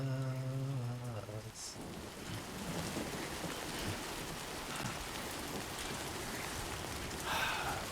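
Timefall rain pouring in the Death Stranding 2 video game, a dense continuous hiss of rainfall with low rumbling underneath and brief tonal game sounds at the start and end.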